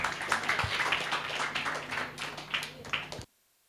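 An audience at a women's day celebration claps steadily for about three seconds, a dense patter of many hands that stops abruptly into silence.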